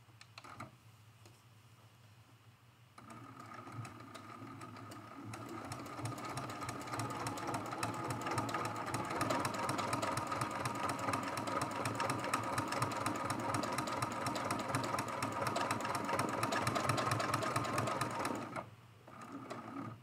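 A sewing machine quilts lines back and forth across an art quilt, its motor running as a steady, rapid ticking hum for most of the stretch, close by, starting after a quiet moment and stopping briefly near the end.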